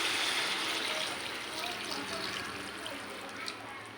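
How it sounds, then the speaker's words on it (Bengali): Chickpea cooking water poured into a pan of simmering country chicken and egg curry, a steady close hiss of liquid that starts strongest and eases slightly over the seconds. "পানিটা ভালোভাবে কষানো হয়ে গেছে এবার আমি ছোলের পানিটা দিয়ে দেবো"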